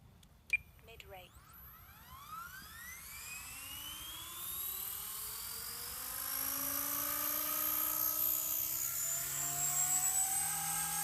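A 180CFX RC helicopter soft-starts: its motor whine climbs steadily in pitch as the rotor spools up, then settles into a loud, sustained high-pitched hover drone.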